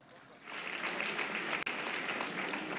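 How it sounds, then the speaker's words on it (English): An audience at a public lecture honouring General Yakubu Gowon breaks into applause for a speaker, a steady, moderately loud wash of clapping that swells after a quiet start and continues to the end. "I thought you were going to give him a round of applause"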